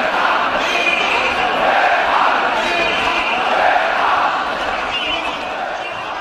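A recording of a large crowd gathered in Tahrir Square, Egypt, plays as a dense, roaring mass of voices and shouts, steady and loud throughout with no single voice standing out.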